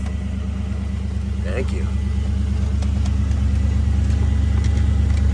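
An 1987 IROC car engine idles with a steady, low, throbbing rumble that holds unbroken throughout, while a voice speaks briefly over it.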